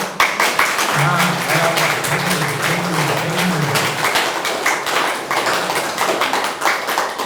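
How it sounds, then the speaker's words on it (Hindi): Audience at a seminar clapping hands in a sustained, dense burst of applause that fills the room throughout, with a low voice humming or speaking underneath partway through. "तो अब तो तालियां बजेगी या नहीं?"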